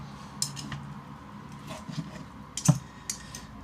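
A blunt kitchen knife chops on a board while chicken fried rice is prepared, giving scattered light clicks and taps with a sharper knock near the end, faint and without talk.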